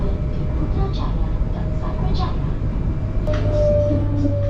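Continuous cabin rumble of a fast Malaysian airport express train running between KL Sentral and KLIA2, with a sharp click near the end followed by a rising tonal whine, and a voice talking faintly over the noise.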